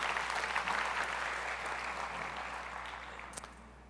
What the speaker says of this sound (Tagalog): Pumalakpak nga tayo ng malakas kung tayo gising